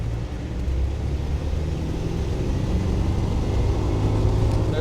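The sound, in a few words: Land Rover Defender 90 300Tdi downshifting and accelerating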